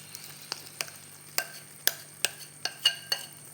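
A spoon or spatula scrapes and taps against a pan while banana and maida batter is stirred, giving sharp, separate knocks about every third of a second over a quiet background.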